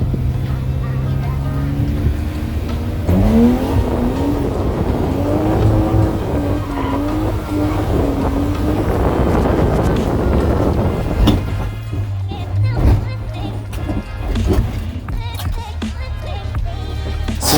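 A BMW E36 drifts with tires squealing in a long wavering screech over engine roar, then a jolt as the wheel catches an angled curb and rips off, followed by scraping, clattering noise and rumbling.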